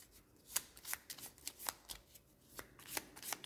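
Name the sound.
shuffling Gloomhaven game cards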